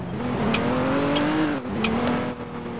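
A car in the Roblox game Liberty County drives and overtakes, its engine holding a steady, slightly rising hum with a brief dip partway through, heard alone without talk.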